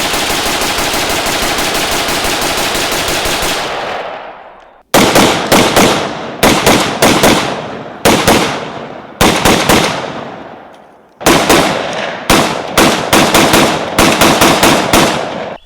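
A 5.45 Russian carbine firing corrosive ammo lets loose a long sustained string of shots, then several rapid bursts separated by short pauses. The fire is loud and close, with no talking.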